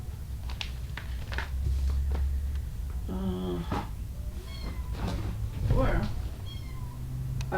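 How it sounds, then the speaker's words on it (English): A cat meows several times at a distance, its cries rising over a steady hum and a person talking, with rustling and knocks in a room where someone is stitching. "I hear a kitty."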